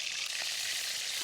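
Curry leaves hit hot oil in a kadai over a wood-fired clay stove, throwing off a continuous bright, crackling sizzle at a moderate level with no voices.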